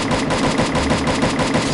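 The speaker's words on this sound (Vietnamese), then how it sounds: "Bắn kìa, bên kia bắn nhau." Rapid automatic gunfire from the Garena Free Fire mobile shooter game rattles continuously and loudly, a dense unbroken burst filling the whole moment.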